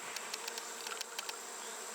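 Swarm of killer bees buzzing around open feeders during a dearth, a steady, close, dense hum with individual bees zipping past the microphone every fraction of a second.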